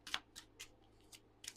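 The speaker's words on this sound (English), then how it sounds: "I've messed up my cards as I shuffled them" Tarot cards being shuffled, heard as soft, faint, papery riffles and flicks in irregular short bursts in a quiet room.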